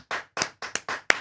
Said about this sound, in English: Slow clap building.